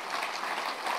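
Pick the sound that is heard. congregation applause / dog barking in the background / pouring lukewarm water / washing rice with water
congregation applause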